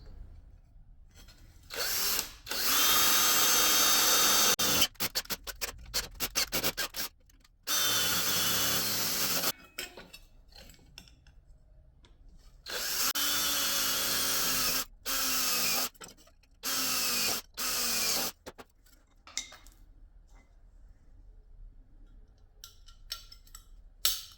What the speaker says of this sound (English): I'm just gonna punch some holes for the screws.